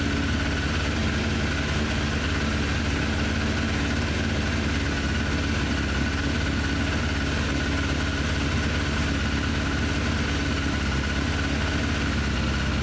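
A Suzuki Bandit 600 motorcycle engine idles steadily during carburetor synchronization, a continuous low rumble with an even, unchanging tone and no voices.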